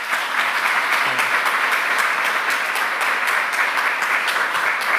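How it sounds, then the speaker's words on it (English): A conference audience gives a warm, sustained round of applause for a speaker, with many hands clapping together in an even, continuous roar that holds steady throughout. "please give a warm round of applause to Benoit"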